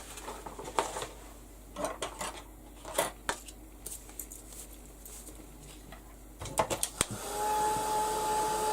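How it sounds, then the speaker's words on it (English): A handheld heat gun blows hot air over a craft tag, a steady, fairly loud whooshing roar that starts near the end after a run of light clicks and handling taps. "I'll give this a quick blast with the heat gun."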